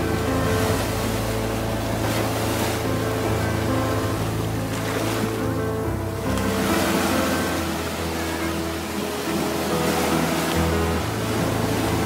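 Ocean surf rolls in at Nags Head Beach, a steady, close, full wash of breaking waves that stays loud for the whole stretch, with a low engine-like hum running underneath.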